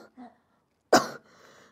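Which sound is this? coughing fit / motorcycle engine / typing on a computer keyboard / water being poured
coughing fit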